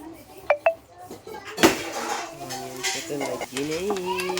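Onions fry in oil in a home kitchen pan, a soft sizzle broken by a sharp clatter and scraping stirs, with a few faint bird chirps and brief muffled voices in the background.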